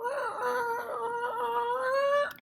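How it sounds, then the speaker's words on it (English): Green Catbird giving a single drawn-out, wavering nasal wail that rises slightly before cutting off, close and clear, much like a mewing cat or a whining infant. "Green Catbird."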